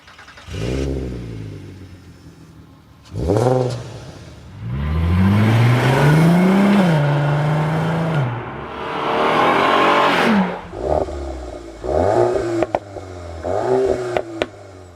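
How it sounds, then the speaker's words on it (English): A Volkswagen Golf R32 engine fires up and revs in sharp bursts, the exhaust rising and falling in pitch, then settling into a throaty idle with short blips. "let's also compare the sound of the R32 model 20 years back"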